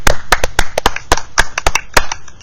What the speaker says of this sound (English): Can we get a applause from the peanut gallery in the back?